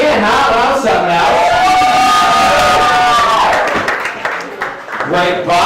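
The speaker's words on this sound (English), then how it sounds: "applause for Laura" A comedy club audience cheers and applauds for a stand-up comedian, a loud, dense wash of clapping and whooping with raised voices that swells and then tapers off.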